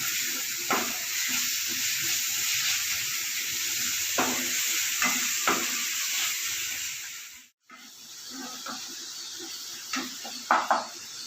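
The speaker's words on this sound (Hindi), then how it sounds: "भाजी रखी पनीर भी पके" Paneer masala frying in a pan with a steady close sizzle and hiss, broken by occasional scrapes and clinks as a spoon stirs it against the pan.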